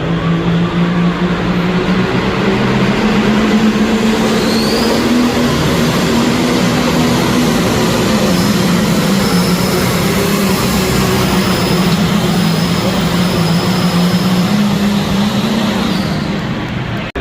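A John Deere pulling tractor from Nebraska roars at full power during a tractor pull, a loud, continuous, heavy engine drone with a steady low pitch that holds throughout.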